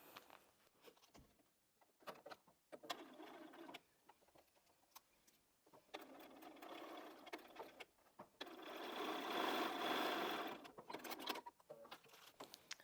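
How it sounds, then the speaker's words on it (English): A sewing machine stitches scrap quilt block pieces in several short bursts of rapid mechanical whirring, separated by brief pauses, with the longest run near the end; close but fairly quiet, no voices. "And then we can take that to the machine, sew those on"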